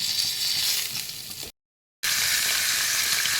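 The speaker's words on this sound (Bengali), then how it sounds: "আমার পটলগুলো ভাজা হয়ে গেছে, দেখো লাল লাল করে" Pointed gourd (potol) pieces fry in hot oil with a dense, close, continuous sizzle that breaks off briefly into silence, then resumes just as loud.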